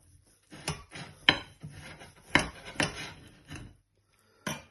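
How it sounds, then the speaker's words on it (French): A knife slices through a homemade ham, giving a series of quiet, irregular taps and short scrapes against the board, with gaps of near silence between strokes and no talk. "tout de suite couper une tranche pour voir"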